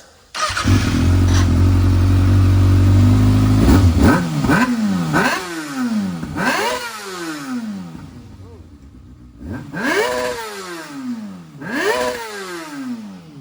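Kawasaki ZX6R motorcycle with a modified exhaust, first held at a high steady rev, then blipped repeatedly in sharp rising-and-falling revs with short idle gaps, close and loud.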